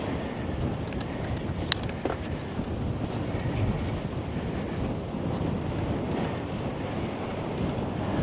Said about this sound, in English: A little bit of headwind.